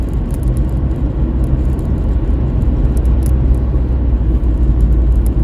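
A car cruising along a road, heard from inside as a loud, steady engine and tire rumble with broadband road roar and no letup.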